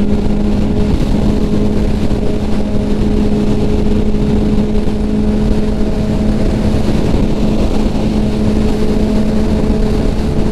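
A 2021 Kawasaki ZX-10R sport bike fitted with an M4 exhaust cruises on a highway, its loud steady engine drone and wind roar continuous throughout, with no talk.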